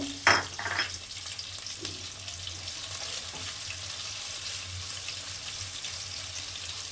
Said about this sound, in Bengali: গাজরটা হালকা ভাজা করব